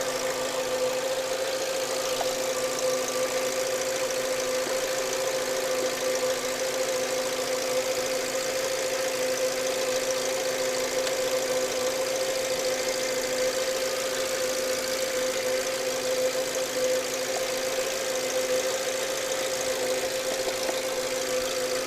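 A car engine idles steadily with a constant hum and a faint high whine running throughout, near and unbroken with no talk.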